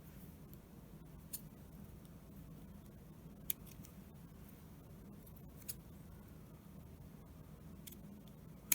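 Scissors trim the edge of a paper carton being made into a small decorative house, with a few faint, brief snips and clicks spread over soft background noise, no talking.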